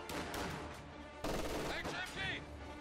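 Heavy machine gun fire in Company of Heroes 2, heard as rapid dense bursts that come in two stretches with a louder onset midway. Game unit voices and chatter sound over the shooting.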